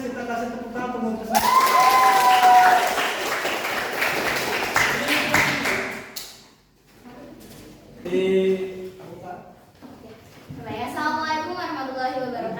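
Audience applause for a Portuguese-themed student group at an in-person teacher training session, a dense burst of clapping and some cheering that swells, then fades as voices talk and call out over it.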